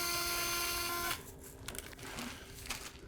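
Surgical 8.0 reamer drilling bone during antegrade anterior column fixation, a steady loud mechanical whine with harmonic tones for about a second, then cutting off into softer irregular grinding and clicks.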